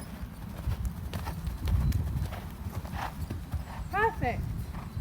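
Rhythmic hoofbeats of a horse during a riding lesson, moving from trot toward canter, close and steady under a coach's spoken instructions, with a short bird chirp near the end.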